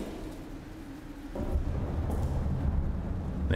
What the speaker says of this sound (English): Man, that is quite the storm, folks.